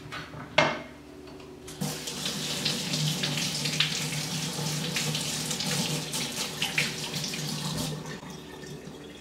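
Tap water running steadily into a kitchen sink while celery stalks are washed, a close continuous splashing stream with a knock at the start and light clatters as the stalks are handled.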